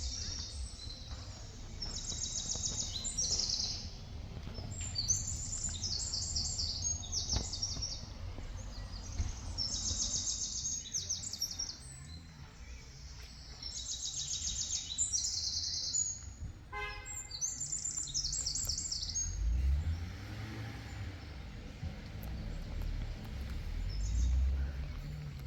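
A bulbul sings outdoors in short, bright repeated phrases spaced a few seconds apart over a continuous low rumble of running water, with occasional louder low thumps near the end.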